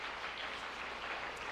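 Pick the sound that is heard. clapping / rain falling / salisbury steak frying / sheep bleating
clapping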